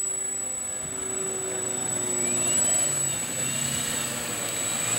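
A twin-engine radio-controlled model aircraft drones steadily overhead at an RC club field, a continuous buzzing whine that swells slightly midway and holds without a break.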